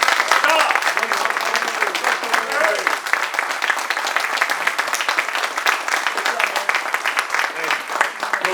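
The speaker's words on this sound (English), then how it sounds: "So a round of applause." Concert audience applauding a Civil War music band performance, sustained dense clapping from a large crowd, loud and steady throughout with occasional voices mixed in.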